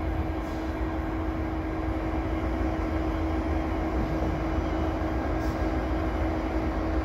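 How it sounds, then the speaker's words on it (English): Canadian Pacific SD70ACU diesel locomotives, rebuilt from SD90MAC units, roll past in a steady, loud rumble with a constant engine drone and no break. "These are locomotives that were rebuilt from older SD90MAC locomotives."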